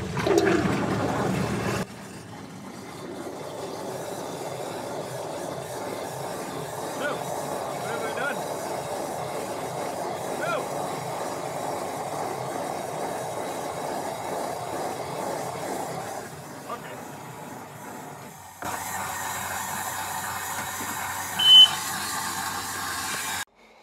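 A Wayne Basement Guardian water alarm sounds steadily for most of the stretch, a constant electronic tone at close range that then cuts off, followed by quieter handling noise and a brief click.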